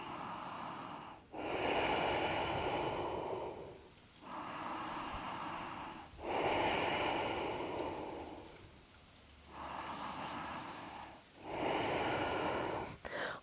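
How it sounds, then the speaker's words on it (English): Slow, deep breathing held in a yoga pose during a vinyasa flow session: about three full cycles of long, airy inhales and exhales, close and clear, separated by brief pauses, with no talking. "staying and breathing for 3 more breaths"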